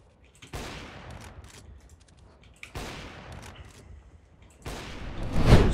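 Valorant deathmatch gunfire in three separate bursts of rapid shots, the last one loudest and closest, with quieter stretches between them.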